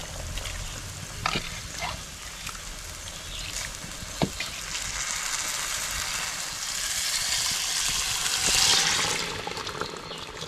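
A broad hiss and sizzle rises as water hits a hot pan of tempering for chicken, with occasional clanks of a utensil and the bubbling swelling toward the end.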